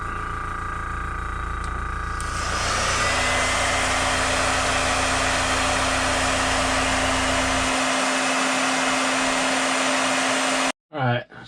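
A heat gun cures color shift paint on a plopper-style fishing lure, a loud steady blowing rush with a low hum that runs for several seconds and then cuts off abruptly.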